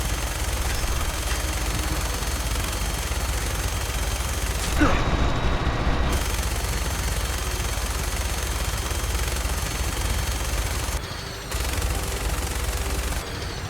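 Gunfire in the video game Fallout 4, Enclave remnants battle: dense, continuous bursts of automatic weapons fire with a sharp explosive blast midway, loud and chaotic, with shouting voices mixed into the fray.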